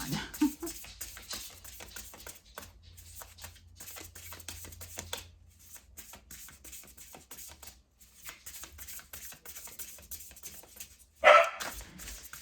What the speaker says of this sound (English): Oh, Lil, please, no barking